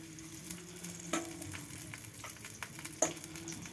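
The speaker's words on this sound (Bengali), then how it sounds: "তেলের উপরে পেঁয়াজ দিয়ে আমি রেডি করে নিলাম" Onion fries in hot oil with a faint, low crackle and soft patter, punctuated by a few small pops and light scrapes close by.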